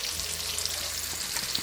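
Cube steak frying in a skillet gives a short, steady, fairly quiet sizzle and crackle with a faint low rumble beneath.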